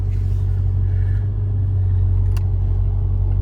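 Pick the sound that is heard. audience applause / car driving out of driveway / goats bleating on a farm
car driving out of driveway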